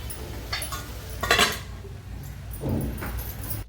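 A metal lid set onto a cooking pan holding curry-leaf and tomato masala for an oyster dish: a few close metallic clinks and rattles, one sharper clatter in the middle, then a softer scrape and settle.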